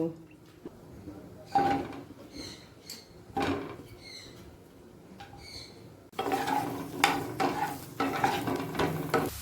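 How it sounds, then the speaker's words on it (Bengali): Cauliflower fries in a little white oil in a nonstick wok. A soft, steady sizzle runs underneath, broken by sharp scrapes and clinks as it is stirred, and the frying grows louder toward the end. "বড় বানারে আমি একটা ননস্টিক কড়াই সামান্য সাদা তেল দিয়ে ফুলকপিটাকে ভেজে নেব"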